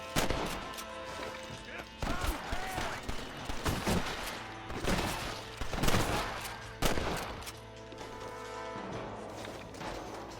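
Repeated gunshots and volleys of gunfire in the Xbox One video game Red Dead Redemption, loud and dense throughout, mixed with in-game sound and occasional voices.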